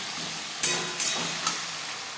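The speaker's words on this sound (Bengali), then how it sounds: "4-5 মিনিট হাই টু মিডিয়াম ফ্লেমে ম্যারিনেট করা চিকেন নাড়াচাড়া করে নেব।" Marinated chicken leg pieces stir-fried in refined oil and butter on a high-to-medium flame for butter chicken, giving a constant loud sizzle broken by three scraping, stirring thumps.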